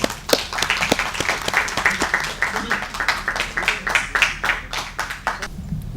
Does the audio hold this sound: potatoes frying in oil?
no